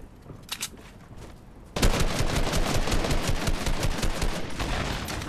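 Rapid automatic gunfire in the video game Fortnite, a few faint shots first, then a loud, sustained burst of dense, close firing that continues to the end.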